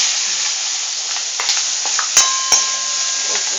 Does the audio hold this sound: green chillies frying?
yes